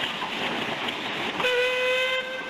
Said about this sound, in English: 2 small steam locomotives shuttled back and forth to cart the sawn timber